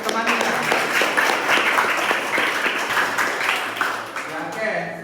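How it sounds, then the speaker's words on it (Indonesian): A class applauding a fellow student after a nursing lecture presentation, a moderate wash of many hands clapping that stays fairly even, then thins out toward the end as voices start up. "tepuk tangan dulu buat temannya"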